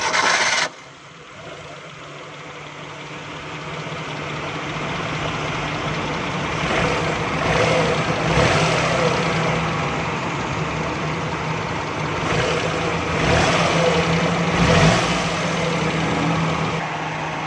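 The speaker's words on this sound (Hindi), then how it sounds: "दोस्तों, ये गाड़ी झटके लगा रही है। गाड़ी स्टार्ट करेंगे।" A petrol car with a shorting ignition coil starts and runs with jerks, a steady close engine drone with uneven surges and rough bursts repeating throughout, no talking.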